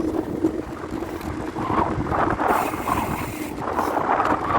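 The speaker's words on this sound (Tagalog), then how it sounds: "Grabe lakas ng hangin, headwind, sumisipol." Strong wind buffets the microphone while cycling along Budaiya Beach in Bahrain on a morning ride, a steady rushing roar with surging gusts and a faint whistling edge throughout, with no talking.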